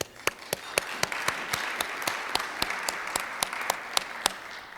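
A small group at a Rotary club meeting applauds members' birthdays with steady, moderately close clapping, a few sharp individual claps standing out in an even rhythm throughout.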